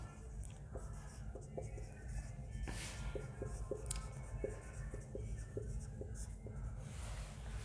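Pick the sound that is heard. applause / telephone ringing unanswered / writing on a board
writing on a board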